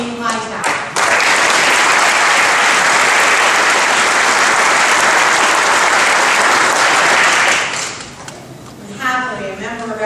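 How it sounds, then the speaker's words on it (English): Loud, sustained applause from a banquet audience for pro bono service award honorees, rising abruptly and holding for about seven seconds before fading, with a voice speaking at either end. "Let's give them a round of applause"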